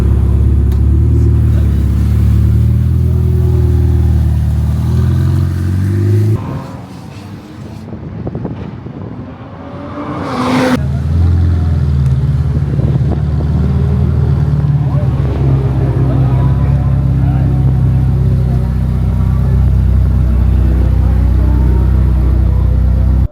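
A Ferrari 488 Pista with a stage 1 tune accelerates hard, its engine roaring loud and close with wind buffeting throughout; the sound briefly dips mid-pull before surging back at full strength.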